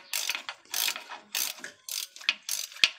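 A hand ratchet clicks in rapid bursts of pawl ticks while backing out starter bolts on a Chrysler 300C SRT8 with a 6.1 L engine, five or six crisp close-up strokes separated by short gaps.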